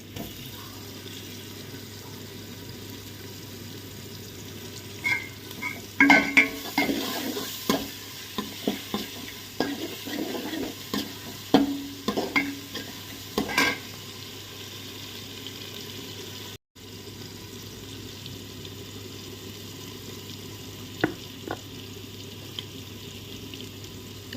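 Ginger and garlic fry in a pan for biryani with a steady low sizzle, overlaid by a run of scraping stirring strokes and clatters before settling back to quieter frying.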